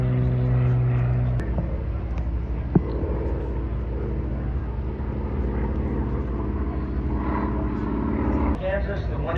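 A Cessna 182 four-seater propeller airplane flies past at the Oshkosh, Wisconsin fly-in, its steady engine drone loud and sustained throughout, with an announcer talking over it.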